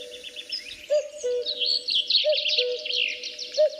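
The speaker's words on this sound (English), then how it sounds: "It's cuckoo, and if your native language is not English, maybe you will know it under one of these names." A cuckoo's two-note call repeats three times over a recording of dawn birdsong, clear and mid-distance, with busy high chirping from other birds in the background.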